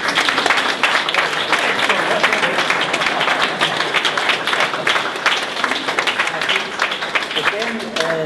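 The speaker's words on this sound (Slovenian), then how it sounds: "Velik aplavz za njega" An audience at the Artita 10 opening ceremony applauds an international participant, producing sustained, even clapping from a large crowd with scattered voices heard in the background.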